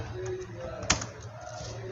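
Computer keyboard typing during graphic design work in Photoshop, a few soft key taps with one sharper click, close and quiet under low room noise.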